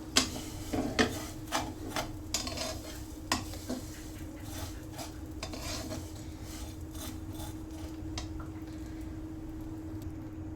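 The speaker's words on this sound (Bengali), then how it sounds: "দিয়ে আমি ভালো করে সেমাইগুলো ভেজে দিব।" Dry vermicelli frying and being stirred in a pan, a steady sizzle under repeated scraping strokes of a spoon against metal, with no talking.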